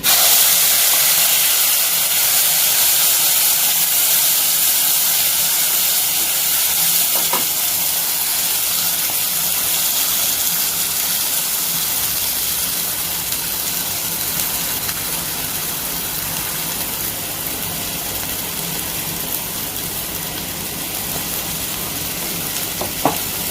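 Freshly ground masala hits a hot pan of oil already seasoned with cloves, fennel and cardamom, bursting into a loud, steady, close sizzle and hiss that holds for over twenty seconds with no talking.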